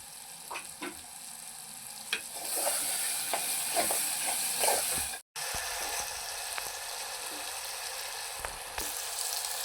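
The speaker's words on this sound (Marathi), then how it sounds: "टोमॅटोचा चांगला गाळ होईपर्यंत टोमॅटोला फ्राय करून घ्यायचं आणि चवीनुसार मीठ टाकून घ्यायचं" Tomatoes fry with salt in hot oil in a home kitchen, a soft steady sizzle broken by intermittent stirring clicks and scrapes from a spoon in the pan, all fairly quiet.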